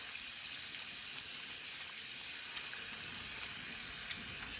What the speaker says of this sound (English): I'm applying soap. You wash between your fingers, you interlace your fingers, you wash your nails, you wash your wrist.